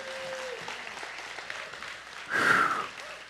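A church congregation at a worship service gives a hand clap, a short burst of applause that swells near the end above a quiet background of murmuring and breathing.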